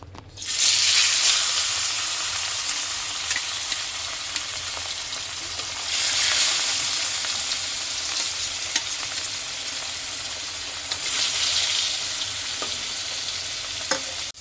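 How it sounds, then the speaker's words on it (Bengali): Rohu fish pieces frying in hot oil, a loud, continuous broadband sizzle that swells in three waves, heard alone without talk. "তেল দিয়েছে তেল গরম হয়ে গেছে এবারে মাছগুলো দিয়ে দেবে"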